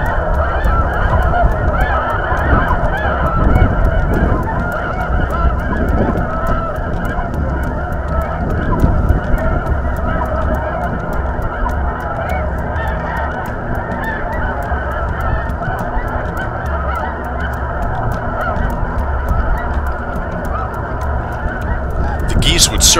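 A large flock of snow geese honks continuously overhead during a South Dakota hunt, a dense, layered clamor of many calls with steady wind-like background noise.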